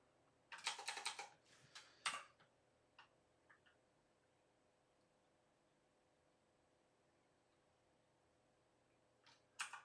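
Computer keyboard typing comes in two quick bursts of faint clicks, then a few scattered taps, a long quiet pause and a final short run of keystrokes in a quiet room.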